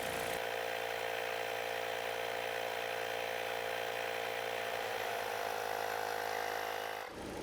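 A portable air compressor inflating a car tyre on an Astra with the engine idling, a steady close mechanical rattling drone running continuously for several seconds before cutting off abruptly.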